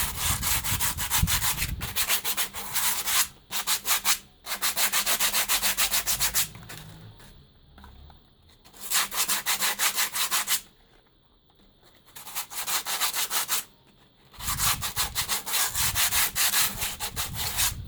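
Sandpaper rubbing hard against a cast cement vase made from milk-carton molds, in rapid back-and-forth scraping bursts with short pauses between strokes, close and loud.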